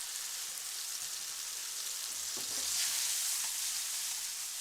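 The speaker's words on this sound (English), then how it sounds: "fry your salsa till the tomato begins to cook through" Tomato salsa sizzles and fries steadily in hot olive oil in a saucepan, a dense crackling hiss that swells slightly midway, close and continuous with no voices.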